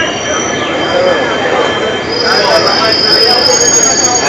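The Nagaland Express rolls through Simaluguri junction with loud, steady wheel rumble and a high, sustained squeal of wheels on rail, close by.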